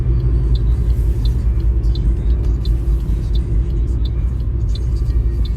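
A Toyota Yaris with a manual gearbox drives along in Poland, its engine running as a steady, loud low rumble with road noise throughout and no talk.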